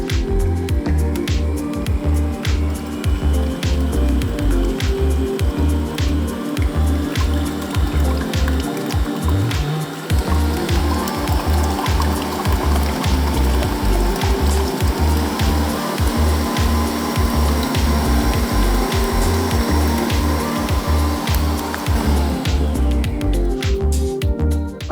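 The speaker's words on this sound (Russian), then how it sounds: "Берем насадку венчик и ставим взбиваться яйца в миксер планетарный в моем случае на 5 минут." A planetary stand mixer with a whisk attachment beats eggs for a sponge cake, producing a loud, continuous motor whir with a rapid, rhythmic slapping churn that runs unbroken for the whole stretch.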